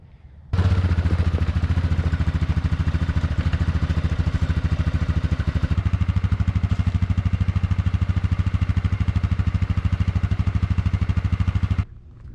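Four-wheeler ATV engine running steadily under a 350-pound load, a loud close chugging idle with a fast regular pulse that starts abruptly and cuts off after about eleven seconds.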